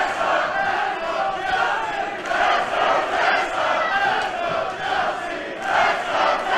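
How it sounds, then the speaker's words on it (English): A wrestling crowd at a Chelsea Green versus Tessa Blanchard championship match roars steadily for both women, a dense, sustained wall of cheering and shouting with swells and no clear single voice. "Seems to me that the crowd split right down the middle, cheering for both women."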